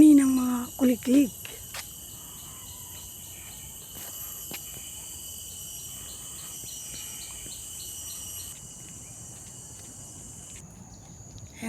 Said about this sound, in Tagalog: Huni ng mga kuliglig.